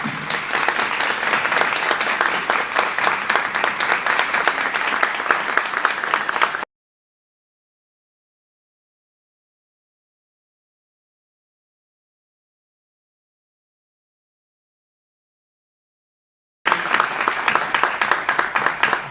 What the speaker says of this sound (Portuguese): sejam agraciados com uma salva de palmas bastante efusiva e calorosa